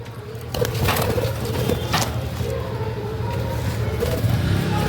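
Caged budgerigars chirp and chatter in short bursts over a low, steady rumble of background noise, with a few sharper calls standing out close by.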